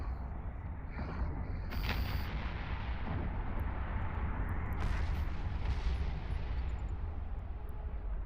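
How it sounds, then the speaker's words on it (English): Ship weapons fire at an enemy in the space game EVE Online, heavy booming shots and rumbling blasts rolling over a steady low drone, with sharper bursts near the start and a big swell midway. "I'm just going to shoot this guy until he blows up."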